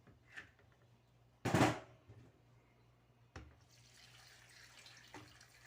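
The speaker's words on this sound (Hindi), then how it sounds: "1 गिलास पानी डाला मैंने।" A short gush of water, one glass, poured into a pot in one quick splash, followed by a faint thud and quiet trickling, close by in an otherwise still room.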